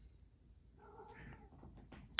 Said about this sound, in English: that's my kitty going crazy